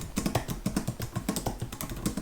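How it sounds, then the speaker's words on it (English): Fast typing on the keyboard of a 2024 MacBook Air M3 laptop, a quick irregular run of soft close-up key clicks, quiet and alone without any talking. "It feels really nice actually typing on the new MacBook Air."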